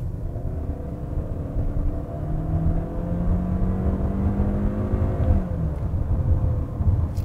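Steady engine and road drone from a 2019 Hyundai Santa Fe midsize SUV with a 2-liter gasoline turbo on a test drive, with a low rumble and a faint rising tone that sweeps upward, no voices.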